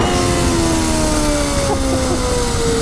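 Exhaust note of a sport motorcycle, a Kawasaki Ninja H2 or 2021 Suzuki Hayabusa, revving with a rising engine tone over a steady droning rumble, close and continuous.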